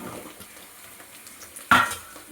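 Cut drumsticks are dropped into a pan of hot oil, giving one sharp clattering splash and sizzle near the end of a quiet, faintly hissing stretch.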